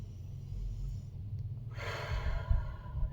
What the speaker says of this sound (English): I shift my awareness into that sensation and I take a deep breath